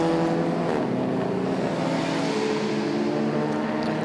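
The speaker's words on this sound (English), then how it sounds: "he's aborted the lap and brought the car into the pits for a stop" GT race car in night practice at the Barcelona 24-hour race, engine note slowing and dropping as it comes off the lap into the pits, steady and fairly loud with no talk.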